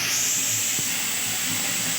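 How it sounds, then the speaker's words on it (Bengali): A pot of rice coming to the boil, giving a steady close hiss of steam with faint low bubbling underneath and a soft knock partway through. "ভাতটা অলরেডি ফুটতে শুরু করে দিয়েছে"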